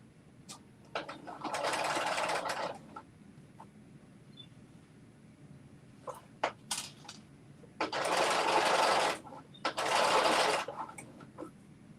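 Sewing machine stitching darts in a New Look 6667 garment, running in three sustained bursts of a few seconds each, separated by short pauses filled with faint handling clicks and rustles.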